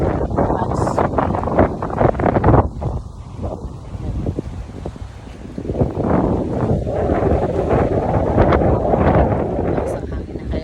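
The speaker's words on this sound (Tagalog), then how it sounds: "Lakas ang hangin na" Strong wind blows near Makinit Hot Spring, roaring and buffeting the microphone in gusts that surge, ease briefly, then build again into a loud rush.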